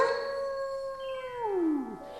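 A long sustained canine howl rings through a song, holding a steady pitch before sliding downward at the end, fairly loud over the music.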